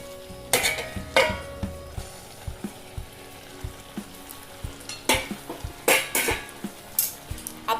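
Tomatoes with chili powder cooking in a pan for tomato sauce, stirred with a utensil: repeated scraping strokes and clinks against the pan over a soft background sizzle, with no voices.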